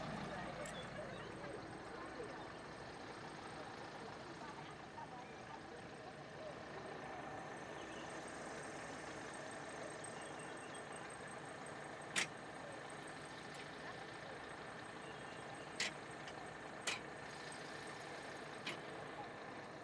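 Kalisari bus engine idling at a pilgrimage stop, a faint steady low rumble running throughout beneath background chatter and people talking, with a few brief sharp clicks.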